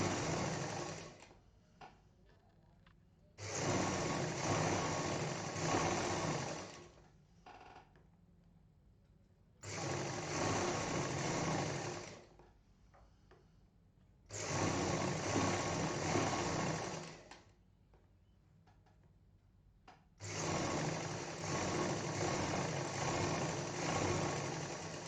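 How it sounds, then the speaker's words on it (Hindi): A sewing machine stitching a straight line on a fabric potli: four loud bursts of fast, steady whirring, each lasting a few seconds, separated by quiet pauses. "तो शुरू में डबल मशीन चलाएंगे, उसके बाद सिंगल मशीन चलाते हुए सीधी लाइन सिल देंगे।"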